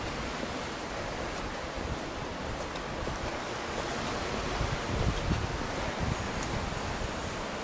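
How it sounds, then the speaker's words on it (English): Gentle sea waves lapping on a beach near Peacehaven, a soft continuous wash with a slight swell midway, faint and mixed with light wind, no talking. "the gentle waves lapping on the beach, very restful"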